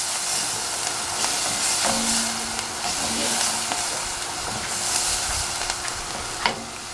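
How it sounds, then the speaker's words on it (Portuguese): Turmeric frying in oil in a pan for sausage rice, a steady close sizzle with light stirring clinks and small pops scattered throughout, no talking. "E vamos fritar aqui para abrir o sabor."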